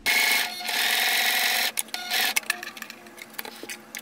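A sewing machine stitching a tote bag runs in a fast whirring burst, pauses briefly, runs again, then gives way to short clicks and handling noises.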